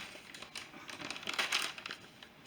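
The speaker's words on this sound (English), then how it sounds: "trying to get my coconut open here" A bag of sweetened coconut flakes being pulled open, with close, quiet crinkling of the plastic that swells into a brief louder rustle midway.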